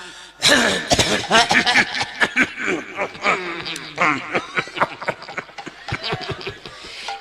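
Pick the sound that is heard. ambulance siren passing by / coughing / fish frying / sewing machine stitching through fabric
coughing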